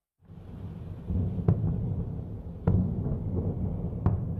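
Israeli airstrikes on Beirut's southern suburbs make a deep, rumbling roar that rises after a silent start, with three sharp distant blasts cracking through the low thunder-like rumble and no talk.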